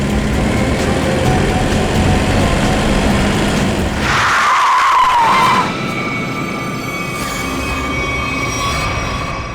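Car tires screech sharply as a car brakes hard to avoid a collision, a loud squeal of a second or two cutting through steady traffic-like rumble before fading to a lower hum.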